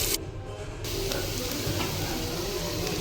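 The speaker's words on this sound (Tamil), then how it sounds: "2 பெரிய வெங்காயம் கட் பண்ணி வச்சுருக்கேன், அதையும் போட்டுட்டு நல்லா வதக்கி விட்டுருங்க" Two large sliced onions hit hot oil and sauté with a steady loud sizzle and hiss, broken by an opening clatter, continuing evenly without talk.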